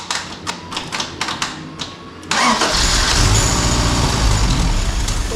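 A 1983 Honda Civic with a 1.5L EM1 engine and a wonky rebuilt carburetor cranks with rapid, uneven starter clatter, then catches and settles into a loud, steady running rumble.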